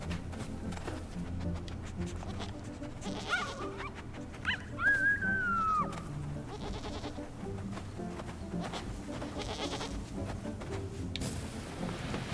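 Goats in the wolf-and-deer game Howler, a few faint bleats over a busy game soundscape of ambience and effects, with one clearer wavering call near the middle.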